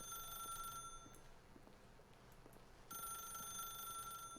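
A telephone ringing in The Stanley Parable: Ultra Deluxe, a bright electronic bell trilling in two bursts separated by a short pause, fairly quiet and alone.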